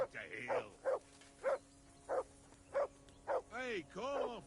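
A dog in the video game Kingdom Come: Deliverance II barks repeatedly and close by in an even rhythm of sharp woofs, ending in a few whining yelps.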